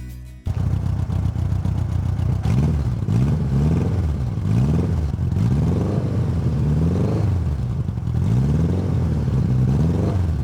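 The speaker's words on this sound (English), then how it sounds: "I've got this on tick over now, and I've discovered that if I rev it, it does actually show some sort of charge" A 1985 Honda GoldWing motorcycle engine ticks over steadily and is revved in several rising and falling swells, loud and close, with mechanical clatter under the engine note and no talking.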